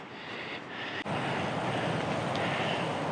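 Steady broadband wind rush buffeting the microphone while cycling along a road in Japan, loud and continuous for the whole stretch with one brief dip.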